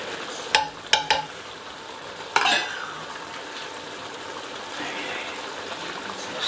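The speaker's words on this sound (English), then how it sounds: "Stir it." Beef vindaloo with garam masala is stirred in a frying pan, a few sharp metal scrapes and clanks of the spoon over a low, continuous sizzle.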